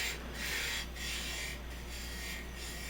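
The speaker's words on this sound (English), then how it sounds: "So using a parting tool here, and we're going to make a recess so that we can grab a hold of this" Parting tool cutting a recess into a wooden whiskey smoker spinning on a lathe, a steady close scraping rasp rising and easing in four strokes over a constant motor hum, no talking.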